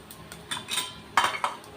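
Black pepper fries in ghee in a pan while cooking a kodo millet ghee pongal, heard as close metallic clinks and scrapes of stirring over a faint, steady background.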